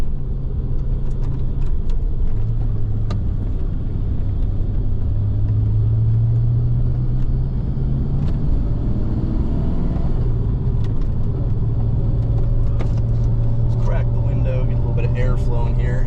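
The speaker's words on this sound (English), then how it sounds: "So I'm gonna have a little spirited drive all the way over." A 1990 Ford Mustang is driven hard, its engine a loud continuous rumble that rises and falls as it revs through the gears, heard from inside the car with steady road noise.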